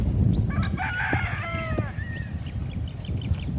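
A straight comb rooster on a breeding farm in the Philippines gives one clear crow over steady background noise, fairly close, with faint clucking from other fowl nearby.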